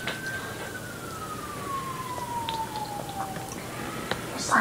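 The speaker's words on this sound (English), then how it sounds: "Sirens." An emergency vehicle siren passes in the distance, a single long tone sliding slowly downward over a few seconds above faint traffic rumble, with no voices.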